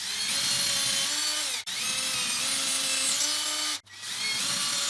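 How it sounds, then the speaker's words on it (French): A power drill bores holes into a wall to mount shelf brackets, a loud, steady whine running close up and breaking off twice for a brief moment before spinning up again. "Là vient l'étape du perçage."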